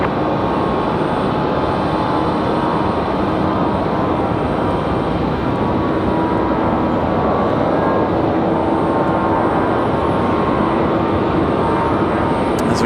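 An Airbus A319 airliner comes in to land on runway 32 at Raleigh-Durham airport, its engines a loud, steady, broadband roar that holds level throughout with no voices.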